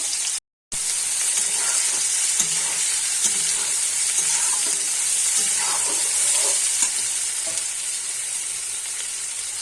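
Chopped onions fry in oil with dried red chillies and cumin, a constant loud, hissing sizzle, close up, with occasional faint stirring scrapes underneath; no talking.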